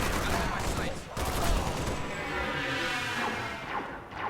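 Pistol and assault rifle fire in the video game Halo: Spartan Assault, a dense, continuous barrage of rapid gunshots with crashing impacts, loud throughout.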